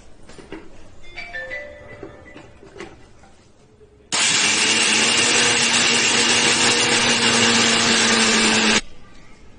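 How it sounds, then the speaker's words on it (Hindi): A mixer grinder jar grinds biscuits into powder in a kitchen: after a few seconds of soft handling clatter, a loud, steady motor whine roars for about five seconds and then cuts off abruptly. "अब हम लोगों ने बिस्किट को ग्राइंड कर लिया है"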